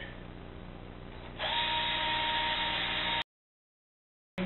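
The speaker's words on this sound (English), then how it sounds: "We take our caps, so we'll drill our holes through it." A power drill whirs steadily, jumps to a louder, higher whine as it bites through plastic bottle caps, then cuts out abruptly into silence before briefly starting again.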